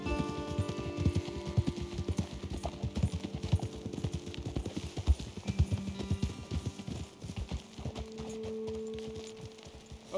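Horse hooves clip-clop steadily in Red Dead Redemption 2, several horses walking along a trail at an uneven trotting rhythm, close and clear, slowing toward the end.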